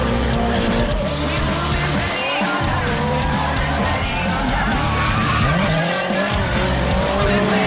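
Drift car at a drift event, engine roaring loud and continuous with tyres squealing and skidding throughout, revs rising and falling across several passes, no talk.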